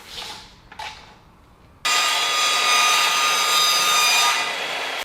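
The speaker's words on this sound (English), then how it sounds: "I'm going to try it on the mitre saw" Mitre saw in a home workshop, fitted with a worn blade, cutting a length of stock: a few light handling knocks, then the motor bursts on loud and close into a sustained high whining cut.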